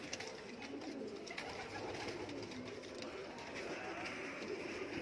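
Teddy cross high-flyer pigeons cooing softly amid a steady background murmur, continuous low calls blending with faint ambient noise throughout.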